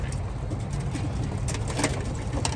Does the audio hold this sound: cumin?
no